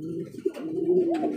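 A racing pigeon coos close by, a soft, rolling low murmur that swells and dips over a short moment, with no speech.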